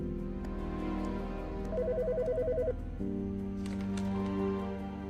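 A phone rings in the Autopsy Simulator video game, a repeating electronic trill of about a second over a steady hum of game background sound.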